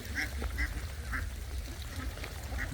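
Ducks quack in the rain in a loose, repeated pattern, a few calls a second, faint and somewhat distant over low background rumble, in a village in Sirajganj, Bangladesh.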